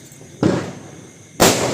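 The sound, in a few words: Diwali firecrackers bursting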